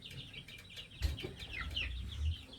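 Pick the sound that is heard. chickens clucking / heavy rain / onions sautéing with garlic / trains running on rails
chickens clucking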